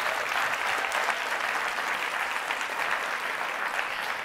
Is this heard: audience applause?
yes